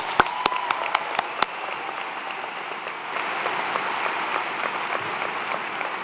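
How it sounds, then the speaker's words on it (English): A commencement audience claps for the faculty: a few sharp, separate claps open, then swell into steady, broad applause from the whole crowd that holds to the end, with no one speaking. "Round of applause for the faculty."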